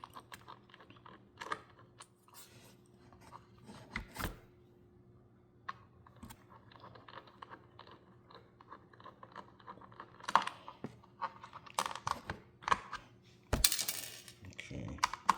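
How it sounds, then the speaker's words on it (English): Small screws being backed out of an ASUS ROG Ally handheld gaming console: sparse, close clicks and light metallic taps from a screwdriver and tiny parts, with a few sharper ticks clustered toward the end. "So let's get these screws out."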